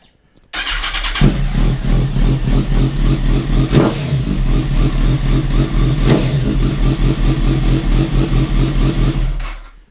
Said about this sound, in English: Let's give it a quick start up just to show you I do know how to put a bike back together again.